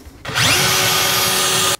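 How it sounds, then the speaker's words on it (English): Power drill boring quarter-inch holes for a radiator fan bracket, spinning up sharply after a short quiet lead-in, running at a steady high whine, then cutting off abruptly. "I can go ahead and drill this out"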